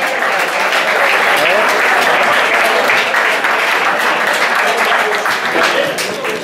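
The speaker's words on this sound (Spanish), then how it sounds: "Un aplauso para ellos." Audience applause at a historic vehicle rally start in Costa del Sol, dense sustained clapping from a crowd lasting throughout without a break.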